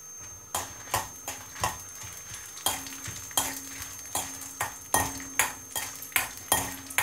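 Dry spices, mostly black pepper with a couple of chillies, rattle and scrape in a pan while dry-roasting, stirred in quick, steady strokes with sharp repeated clicks, close and fairly loud with no talking.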